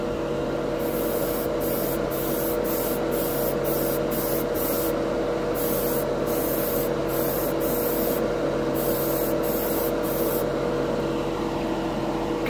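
Duralumen chrome spray paint hisses from an aerosol can onto a shiny glossed spoon in a steady continuous spray, with a run of short bursts and pauses layered over a constant close hiss.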